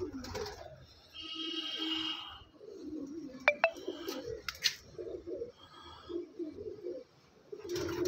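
Repeated low, throaty pigeon coos throughout, close by, with a few faint chirps and light clicks in the background.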